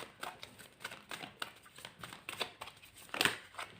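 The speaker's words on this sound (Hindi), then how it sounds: "आज मैं सारे के सारे कार्ड्स निकाल लूँगी" Tarot cards shuffled and drawn during a Hindi pick-a-pile reading, a string of soft papery riffles and flicks with a sharper snap near the end, close and fairly quiet.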